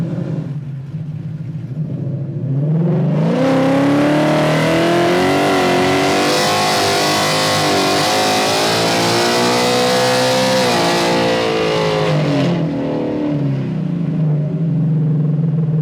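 Tuned 2024 Silver Bullet car pulling away on a test drive, engine swelling from a low rumble into a loud, sustained roar with shifting pitch, then easing slightly at the end.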